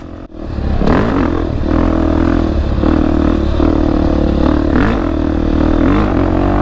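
A 500 dirt bike rides open twin trails, its engine droning loud and close with rhythmic revving surges and some rattling clatter throughout.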